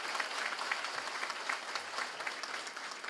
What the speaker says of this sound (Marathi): हा नेता आपला जो उपस्थित झाला तो जोरदार टाळ्या वाजवल्या पाहिजे